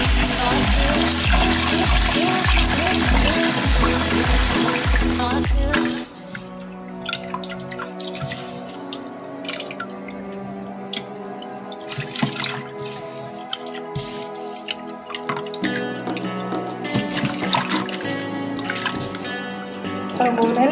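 Toor dal lentils are washed in water in a home kitchen. A loud, sloshing rinse is followed by scattered drips, splashes and wet squishing sounds.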